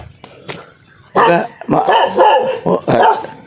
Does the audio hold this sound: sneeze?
no